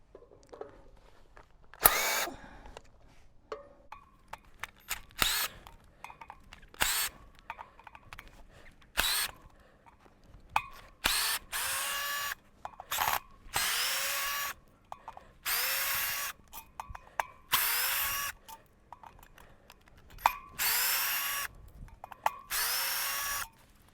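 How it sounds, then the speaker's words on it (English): A power driver tightens T30 Torx bolts on a Surron Ultra electric dirt bike wheel in short, loud, close whirring bursts that start and stop repeatedly, with brief clicks and quiet gaps between them. "it was a little bit too tight by hand with the T30 Torx, so I've grabbed a driver"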